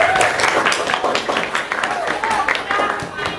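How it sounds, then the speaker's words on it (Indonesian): Students in a classroom clap for group 1 during a lesson, a dense, steady round of applause lasting the whole moment, with voices mixed in. "Oke, tepuk tangan untuk kelompok 1."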